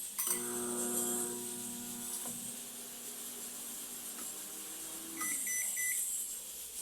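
Microwave oven running at low power for five seconds, starting with a beep and a faint steady hum before a final beep tone, with a quiet hiss throughout.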